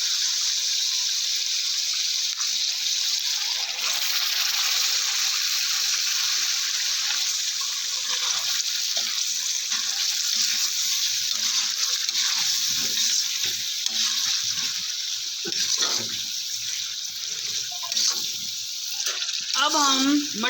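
Mutton is added to a spice paste in a pan and begins sizzling, a steady hiss of frying with clinks and stirring noises, and a person talks over it.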